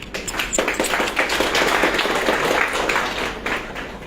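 Audience applause for an agricultural team at an indoor business event, a steady dense patter of many hands clapping for about four seconds at close range.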